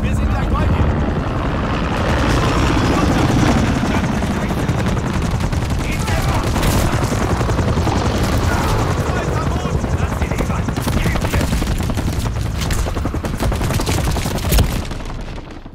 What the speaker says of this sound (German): Charlie sollte sich um diesen Heli kümmern.